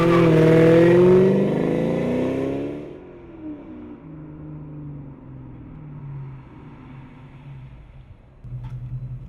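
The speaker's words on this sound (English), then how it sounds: "we're going to do a baseline 0 to 60 run using my ITSX wireless tuner and my iPad here just to see where the car stands now" Automatic 2000 Ford Mustang GT with an Airaid intake and Flowmaster cat-back launching in a 0 to 60 run, loud rising V8 roar up close that drops away into a lower receding drone and quiet idle.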